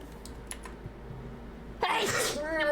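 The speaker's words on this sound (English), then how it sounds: "Gotta sneeze." A single loud sneeze from a person gaming at a computer, sharp and close, following a brief quiet stretch with faint keyboard clicks.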